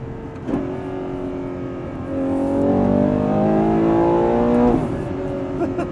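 A Ferrari Purosangue V12 engine revs up with a rising, smooth multi-tone howl, holds high, then drops back to a rumbling idle; close and fairly loud.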